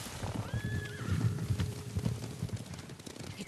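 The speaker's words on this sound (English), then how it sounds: "horses. They're coming for us." Several horses from the Ghost of Tsushima video game come galloping closer, their hoofbeats forming a dense low rumble while a horse neighs with a rising, clearly heard whinny partway through.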